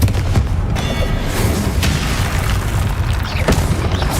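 Confringo spell explosions in the Hogwarts Legacy video game: several sharp, loud booming bursts strike over a dense, continuous rumble of game noise, with one near the start and others spread across the clip.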